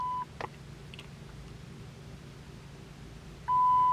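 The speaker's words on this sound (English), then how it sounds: "you'll hear a beep in a couple of seconds after all these" A short high electronic beep from a Chrysler 300's ignition during key fob programming, then after a pause a longer steady beep begins, with faint background hum.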